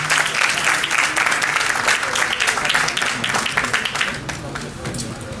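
Audience applause and cheering at a Haitian tribute event, a steady roar of clapping sustained throughout, with voices mingled in.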